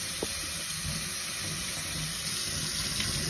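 A cleaning cloth rinsed under a running tap during a door hole repair, a steady continuous rush of flowing water with a faint hiss, close and unbroken, no one speaking.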